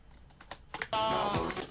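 Computer keyboard key presses during video editing: a few soft scattered clicks, then music starts up and plays to the end. No one speaks.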